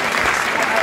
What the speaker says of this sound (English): The fans are clapping now